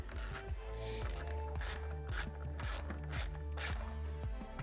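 A ratchet tightens the bolts on a plastic headlight housing while Mopar LED headlights go into a Jeep JL Wrangler or Gladiator, giving close, rapid clicking strokes repeated in a steady rhythm of short bursts.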